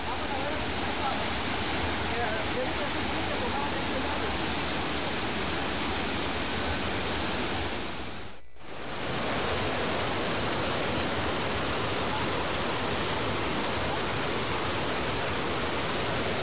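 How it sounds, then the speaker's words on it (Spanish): A river rushes past nearby at the foot of its banks, a loud steady broadband roar of flowing water that briefly dips around the middle before resuming unchanged. "Ya estamos aquí a las faldas del río"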